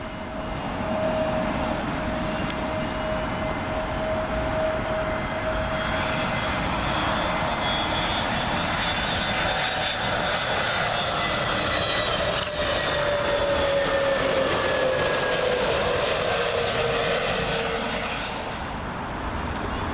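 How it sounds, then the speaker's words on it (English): A British Airways A320neo arriving from Milan makes its landing approach at Heathrow, a steady broad jet roar with a whining engine tone that holds for the full stretch and swells slightly late on, while birds chirp faintly over it. "Next one up, British Airways A320neo, coming in from Milan."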